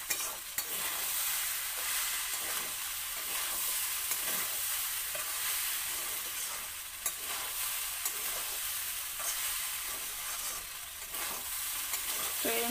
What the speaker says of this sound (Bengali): আর একটু ভাজা ভাজা করে নিই। ভালো করে এটাকে লাড়তে হবে